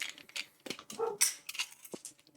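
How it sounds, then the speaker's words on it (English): Dog, upset, letting out short yips and whimpers, a few close, scattered sounds broken by brief pauses, with some higher whiny cries mixed in. "my dog is not happy right now over something"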